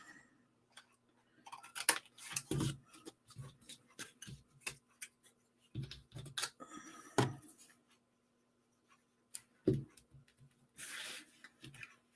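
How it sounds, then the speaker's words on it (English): Scissors snip paper in short, separate bursts, close and fairly quiet, with pauses between cuts, while a handmade Santa and elves Christmas card is cut out from the back. "I'm cutting from the back because that's where it's easier to see"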